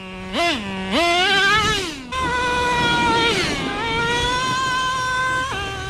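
A Traxxas T-Maxx nitro RC monster truck with a 2-speed transmission screams as its small engine revs in a parking lot: a high, buzzing whine rises sharply, drops as it shifts gears, then holds a steady pitch, loud and close.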